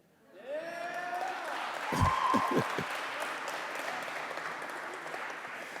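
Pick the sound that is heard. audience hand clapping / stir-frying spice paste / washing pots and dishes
audience hand clapping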